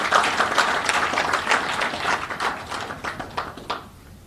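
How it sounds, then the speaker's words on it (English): Audience applause at the 42nd NABARD Foundation Day celebration attended by the Governor of Andhra Pradesh. Individual claps start fairly strong, then thin out and fade to scattered hand claps before stopping. "they deserve a big round of applause for this"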